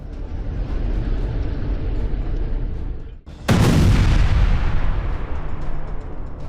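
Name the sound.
explosions in Gaza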